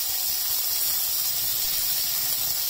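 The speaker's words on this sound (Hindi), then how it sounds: "हल्का पिंक होने तक हम इसको भून दें।" Chopped onions with ginger paste frying in a pan until lightly pink, a steady close hiss and sizzle throughout with no talking.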